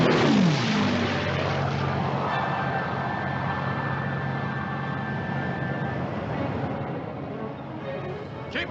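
Carrier planes launch and catapult off a ship's flight deck, with a loud continuous engine and propeller roar that rises and holds steady. A voice speaks faintly beneath the noise.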